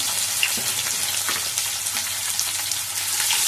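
Long-cut onion strips and cumin fry in hot oil with a steady, busy sizzle and crackle. The sound stays close and continuous, with no talking.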